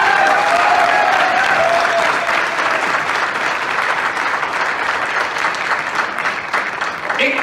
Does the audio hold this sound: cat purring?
no